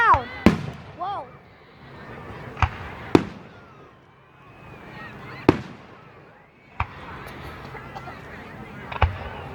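Fireworks go off one after another outdoors at night as sharp, loud cracks and bangs at irregular intervals, with people shouting, cheering and talking excitedly between the blasts.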